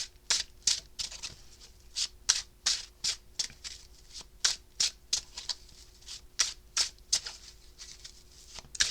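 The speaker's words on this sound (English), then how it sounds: "all you'd be hearing is shuffling" A deck of cards is shuffled repeatedly, crisp riffling bursts coming in a steady rhythm, close and clear against a quiet background.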